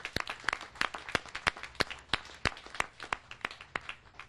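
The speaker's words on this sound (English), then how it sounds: "Give them a round of applause." An audience claps in a steady run of sharp, distinct hand claps, fairly sparse and moderately distant, with no talking over it.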